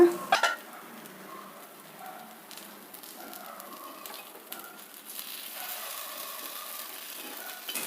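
Paddu batter cooks covered in a paddu pan, giving a soft, steady sizzle after a brief clatter of the lid, quiet and continuous.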